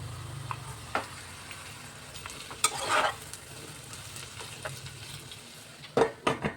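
Goat spleen frying in oil with onions, green chilies, turmeric and ginger-garlic paste, a soft steady sizzle with a few louder stirring scrapes and clatters, no voices.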